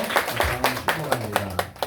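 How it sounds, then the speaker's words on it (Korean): Church congregation clapping during a Sunday worship service, a sparse run of separate claps at a steady rhythm, moderately close, with a low voice murmuring underneath. "다시 한번 하나님의 박수를 하도록 하겠습니다."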